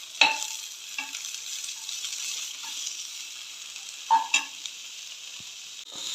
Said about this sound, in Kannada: ಇವಾಗ ನೋಡಿ ಎಲ್ಲ ಫ್ರೈ ಆದಮೇಲೆ ಟೊಮೆಟೊ ಹಾಕ್ಕೊಳ್ಳಿ.